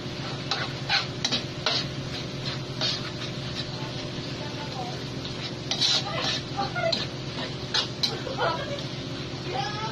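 Tomato paste, about 70 grams, sizzles softly in a pan while a spoon scrapes and stirs it in repeated short strokes, with a person talking over the cooking.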